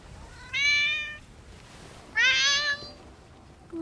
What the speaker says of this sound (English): That sounds like a very angry kitty.